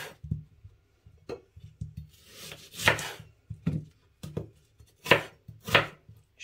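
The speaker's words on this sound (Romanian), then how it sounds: "Voi tăia și ceapa." Onion being chopped with a knife on a board, a series of crisp close thuds and slicing cuts in irregular bursts, fairly quiet and heard alone without talking.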